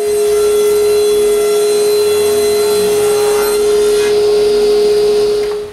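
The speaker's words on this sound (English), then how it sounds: "To use them, I need to cut all the damaged side" A power saw cuts paint-stripped wooden panels to remove their damaged sides. It gives a loud, steady, high motor whine that holds throughout and fades at the very end, with no speech.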